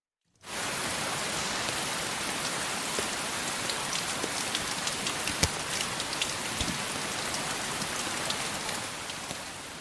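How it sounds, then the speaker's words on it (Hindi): Rain falls steadily outdoors, a dense even hiss of drops with occasional louder individual splashes, continuous and moderately loud with no voices. "बाहर बरसात हो रही थी"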